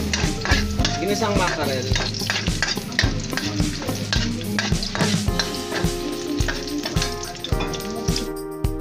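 Garlic sautés in a hot pan with steady loud sizzling and frying, broken by frequent stirring and the scrape of a utensil against the pan, while music plays throughout and a voice speaks briefly.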